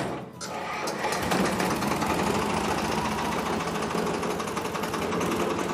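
Two-cylinder four-stroke diesel engine of a 1964 Same tractor starting up and then running at a steady, fast, even chatter, loud and close.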